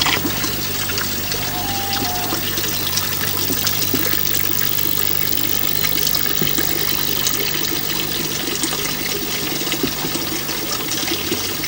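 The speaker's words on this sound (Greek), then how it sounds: "Έχει νεράκι ακόμα αυτή βρύση." Water runs steadily from an old village fountain tap in rural Greece, a continuous trickling splash against a faint low hum and outdoor background.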